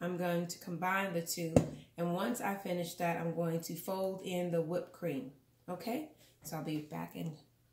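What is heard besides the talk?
No everyday noises stand out.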